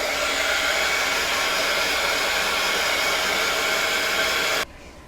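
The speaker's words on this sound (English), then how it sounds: "Now I'm gonna take my drying tool" A heat drying tool blowing over an art journal page, a loud steady close whoosh that cuts off abruptly near the end.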